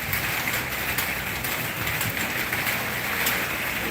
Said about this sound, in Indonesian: Hujannya deras sekali ya.